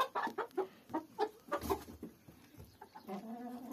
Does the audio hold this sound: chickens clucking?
yes